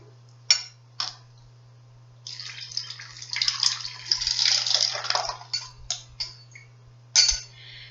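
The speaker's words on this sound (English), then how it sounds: "I am going to pour this liquid water from this beaker to this bottle." Liquid water pours from a glass beaker into a bottle in a school science lesson, with a few clinks of glass before a continuous splashing trickle and closing drips and taps, close and clear, with no talk.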